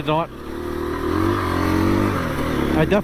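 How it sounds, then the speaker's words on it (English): A 2021 KTM 350 EXC-F dirt bike engine idles and revs with a steady whirring hum beneath it, close by, with brief chatter-like bursts at the start and end. "some type of different strange like whizzing or whirring sound down in the motor"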